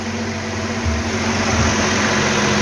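A Dodge car engine idles steadily with a constant low rumble and hum, no talking, running evenly throughout.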